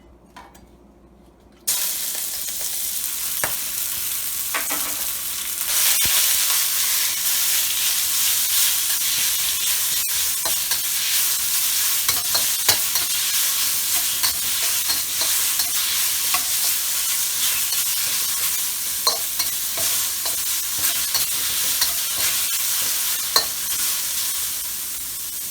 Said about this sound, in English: I got the wok heated up. Put a tablespoon of oil. And I'm going to put the pork in first.